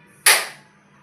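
Mustard seeds and spices hitting hot oil for a tomato chutney tempering give one sudden sharp crackling burst that fades within about a third of a second over quiet background hum.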